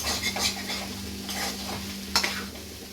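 Meat sautés in a frying pan with cabbage while it is stirred, giving a soft, quiet sizzle with scattered scrapes of the spatula over a steady low hum.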